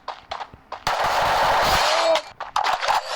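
Rapid automatic gunfire from an MP5 submachine gun in the Free Fire video game, a sustained loud burst of about a second and a half, with scattered shorter shots before and after.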